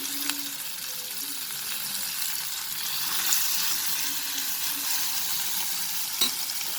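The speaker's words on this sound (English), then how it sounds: "Then we are going to add the mashed green peas." Mashed green peas dropped into a hot oiled pan, a steady bright sizzle and frying hiss with occasional stirring clinks, close and fairly loud, with no talking.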